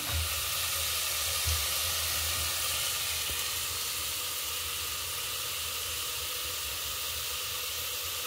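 Curry bubbles and sizzles continuously in a pan with a dense, steady hiss, loud and close throughout, with no talk over it.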